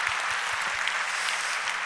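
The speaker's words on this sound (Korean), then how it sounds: "다 같이 한번 박수 한번 더 하겠습니다" A church congregation applauds at a New Year's Eve watch-night service, broad steady clapping filling the hall evenly throughout, with no voices over it.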